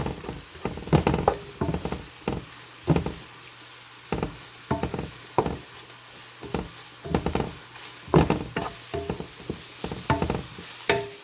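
A spoon stirs a vegetable soup mixture in a pot, making irregular bursts of scraping and knocking against the pot over a soft background hiss, close and without voices.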